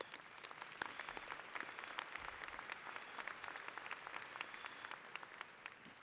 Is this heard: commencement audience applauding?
yes